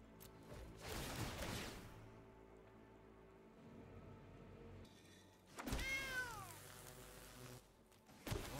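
Cat token meows from the MTG Arena card game, a couple of distinct digital cat calls separated by quieter game ambience, fairly soft overall with no talk.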